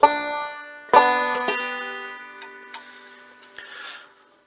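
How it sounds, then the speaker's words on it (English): Close banjo with two strings strummed in a frailing pattern, a few ringing strums that fade into lighter plucked notes and die away, alone. "if it was just 2 strings being strummed, it'd sound like this"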